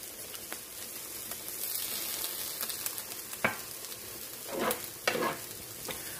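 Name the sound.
grilled vegetables sizzling in a pan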